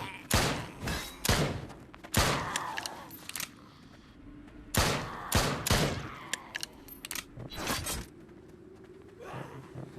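Shotgun blasts in the VR zombie shooter Spawn of the Dead: loud separate booming shots in irregular clusters over about ten seconds, with game noise between them.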